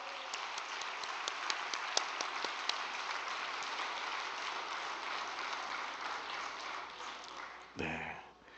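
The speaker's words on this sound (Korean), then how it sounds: "박수 한번 부탁드리겠습니다" Audience applause at a Korean spiritual training report event, a dense sustained clapping wash with a few sharper claps standing out, holding steady before cutting off abruptly near the end.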